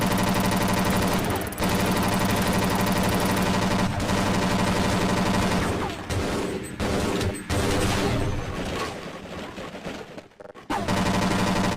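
Rapid automatic turret gunfire in the Half-Life video game, a dense continuous rattle of shots with brief gaps and a few sharper bursts, loud and close throughout, no voices.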